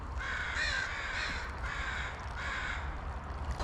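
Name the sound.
crows cawing at a campground in the morning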